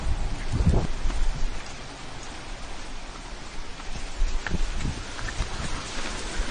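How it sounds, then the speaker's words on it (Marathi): Steady rain falls outdoors, a dense even patter at moderate level with a few louder splashes and rumbles near the start and middle, no voices. "इथं लवकर पाऊस आला"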